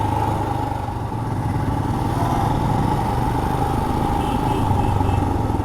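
A motorcycle engine drones steadily while riding on a road in Kerala, a loud, continuous mid-pitched thrum with rumbling low pulses and wind noise, with no voices.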